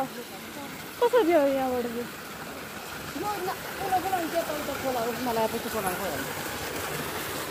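A mountain stream rushes with a continuous broadband hiss of flowing water while someone talks over it in several bursts.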